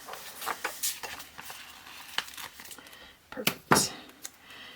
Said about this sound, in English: let's see if I can cut it straight